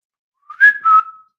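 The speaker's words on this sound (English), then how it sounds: "I whistle as a stim as well" A person whistles a short two-note phrase as a habitual stim, the tones sliding slightly downward. The whistle is clear and close, heard alone with no talking.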